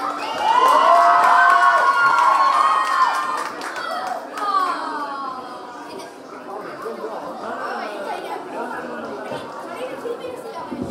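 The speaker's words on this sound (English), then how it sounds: "let's give a big round of applause" Cheering and clapping from a party crowd at a 50th birthday celebration: loud whoops and children's shouts over applause at first, then easing into a busy hum of chatter with scattered claps.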